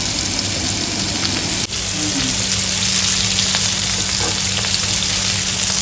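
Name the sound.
whole boit fish frying on large tava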